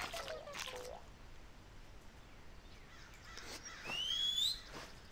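A character's whistling emote in the online game Dofus, version 2.26: a faint, thin rising whistle near the end over quiet game ambience, with a few soft chirpy tones earlier.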